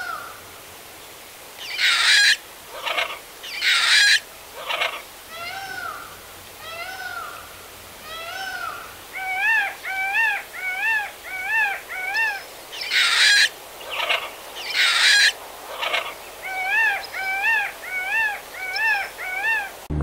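Several peacocks at a zoo in Lima give loud, nasal bird calls, with harsh bursts alternating with runs of short, rhythmic repeated cries.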